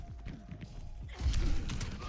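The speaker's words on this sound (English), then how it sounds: "I heard his footsteps to the left of me." Enemy footsteps in the game Overwatch 2, a quick series of soft thudding steps under busy game sound, getting louder and closer in the second half of the moment.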